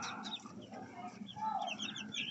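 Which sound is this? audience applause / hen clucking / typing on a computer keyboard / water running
hen clucking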